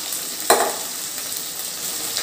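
Onions and curry leaves fry in a pan with a steady, close sizzle and a brief stirring clatter near the start, with no voices.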